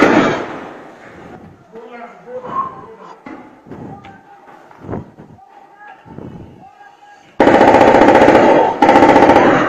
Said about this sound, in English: You can hear shots.